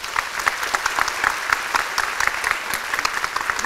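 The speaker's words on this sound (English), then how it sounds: "Can we give a round of applause?" Applause from a panel discussion audience at a Buddhist closing session, a steady dense patter of many hands clapping together throughout, fairly loud and continuous with no voices over it.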